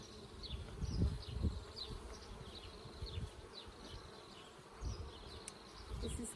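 A swarm-started colony of honeybees hums in a freshly opened beehive during an inspection, a steady low drone with scattered higher buzzes of individual bees passing near, alongside occasional soft handling thumps, no talking.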